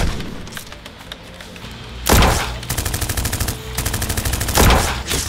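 Rapid bursts of gunfire sound effects in a Free Fire themed Nerf war short film, sparse shots at first, then loud, dense volleys of automatic fire swelling and pulsing for several seconds.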